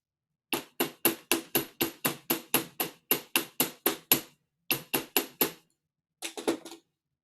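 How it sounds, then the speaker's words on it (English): Sharp metallic hammer taps on a medieval-style wire pin in a steady rapid series, about eighteen strikes, then a brief pause, five more, and a final quick flurry of lighter taps. "I'm going to go hammer this a little bit. to get it to stay in place."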